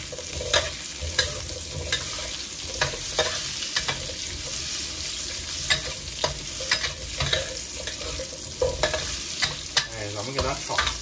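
Chestnuts stir-fried in oil in a wok, a continuous hiss of sizzling oil broken by regular scraping and clattering strokes of the spatula.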